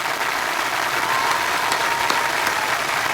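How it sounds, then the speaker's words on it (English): Steady, dense applause from a crowd holds at an even level throughout, a continuous wash of many hands clapping with a few sharper claps standing out near the end. "Round of applause for myself."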